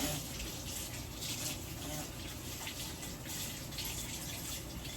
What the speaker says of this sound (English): Let me rinse the dough off my hand.